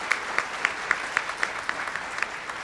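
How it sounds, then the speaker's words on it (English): An audience at a school district event applauds students and their teacher. Claps are spaced out and fairly rhythmic, nearly in unison, with roughly ten distinct beats over a steady crowd background. "Applause for our Lamar students and their fabulous teacher."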